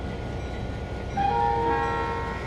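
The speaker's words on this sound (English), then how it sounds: "That's his horn?" A locomotive horn sounds in the Trainz 2022 train simulator, a sustained chord that starts partway in over a steady engine rumble.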